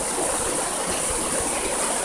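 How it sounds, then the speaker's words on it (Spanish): Steady rushing water from a waterfall behind the Majaceite river near El Bosque, Cádiz, a dense continuous roar close by with no break and no voices. "estamos contemplando estas maravillas, la cascada que hay detrás del río"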